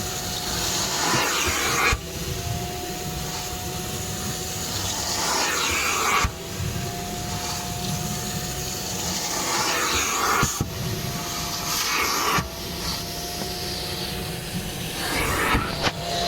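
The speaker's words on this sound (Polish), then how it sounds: "Super odkurzacz i powiem Wam, że działanie wygląda w ten sposób." A Kärcher Professional vacuum cleaner runs steadily in a garage, giving a loud, continuous hissing roar with a faint whine and a few sharp clicks or knocks along the way, and no voices.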